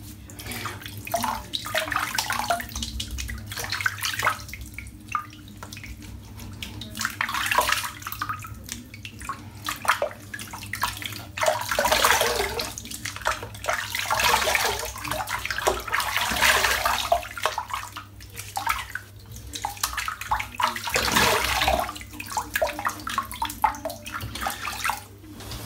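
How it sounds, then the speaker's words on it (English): Running water pours steadily as a head is rinsed under it during a wet shave, a continuous splashing rush that shifts in texture for nearly half a minute, with no talking. "I'm just going to rinse my head off as well"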